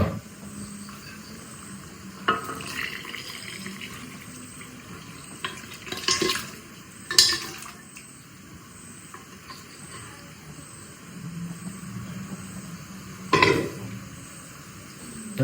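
Goat legs tipped into a simmering pot of mutton paya, with several clattering thuds and knocks against the pot and spoon scrapes spread out over quiet bubbling and hiss.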